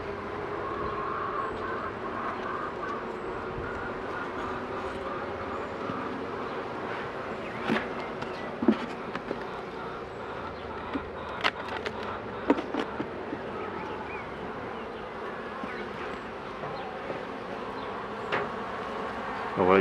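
Honeybees in a hive that has lost its old queen fill the air with a steady, dense, close drone that never stops, broken by occasional sharp clicks and knocks.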